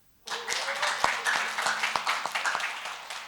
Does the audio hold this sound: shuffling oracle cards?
no